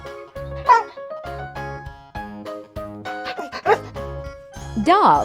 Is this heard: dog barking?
yes